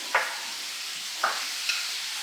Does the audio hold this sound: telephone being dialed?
no